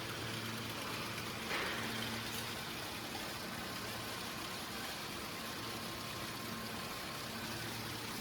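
An automatic checkweigher and slider sorter line for clamshell strawberries runs with a steady, even mechanical drone, moderately close and unchanging for the whole stretch.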